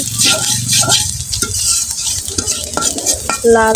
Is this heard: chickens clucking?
no